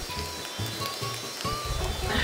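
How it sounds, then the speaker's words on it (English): Steady patter of rain in a Mario video game, a continuous hiss of drops with faint tonal game sounds beneath, moderately loud and constant throughout. "It's raining out."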